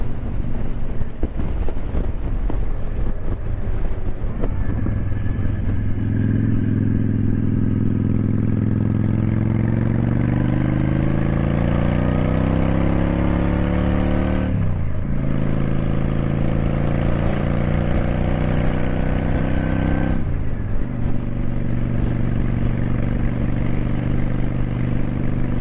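A Honda Shadow 750 motorcycle riding toward a dam, its engine droning steadily and rising in pitch through the gears, with two brief drops as the rider shifts, heard close and loud with wind rush.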